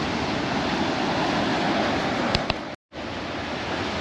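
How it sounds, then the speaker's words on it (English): Turbulent sea waves surge at Ca'n Pastilla, Mallorca, as a loud, continuous broadband wash of surf with a very brief dropout near the end. "could sit here for hours just listening and watching the waves"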